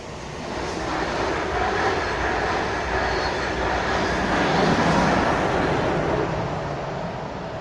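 A train rumbles past steadily, a broad roaring wash that swells and holds for several seconds before easing slightly.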